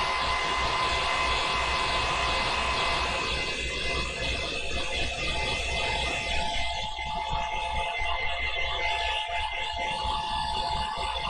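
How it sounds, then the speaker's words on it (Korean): A hair dryer blows steadily on a low setting, a continuous close whirring hiss with slight shifts as it moves. "드라이기는 약한 바람으로 제가 한번 하겠습니다"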